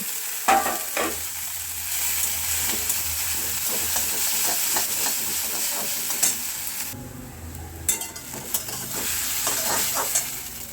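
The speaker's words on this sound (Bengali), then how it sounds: "ম্যাগিটা আমার ভাজা ভাজা হয়ে গেছে" Maggi noodles frying with potato and onion in a pan: a constant bright sizzle with frequent scraping and tapping of a spatula, close and fairly loud, with no one talking.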